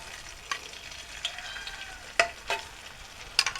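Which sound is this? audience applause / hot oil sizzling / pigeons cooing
hot oil sizzling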